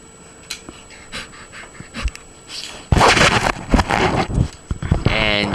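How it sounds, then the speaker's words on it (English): Dog named Coco panting and scuffling close by, starting with faint rustles and clicks and then loud rapid breathing and jostling noises during the second half. "now my dog's like trying to knock me over"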